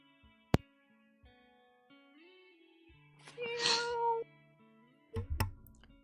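A cat meows once, fairly close and clear, during a tabletop role-playing game session, with background tones and a few soft knocks around it.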